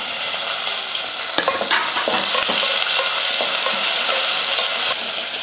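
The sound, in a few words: onion and curry leaves frying with mustard seeds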